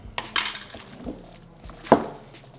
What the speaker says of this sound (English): Throw this lemon juice in and give her a little mixing.